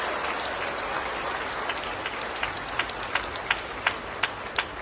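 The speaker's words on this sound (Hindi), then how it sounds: "बिहार के लोग थोड़ी ताली बजाएं" Audience applause at a health and wellbeing seminar in Patna, a broad steady wash of many hands clapping with sharper, louder claps punching through toward the end.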